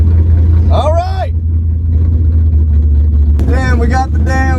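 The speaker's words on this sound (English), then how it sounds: "we got the damn Nova gasser next to me. The thing is rattling my entire car." A Chevrolet Nova gasser rumbles loudly right beside a car at a rally, its heavy low throb steady throughout while a person talks over it in short bursts.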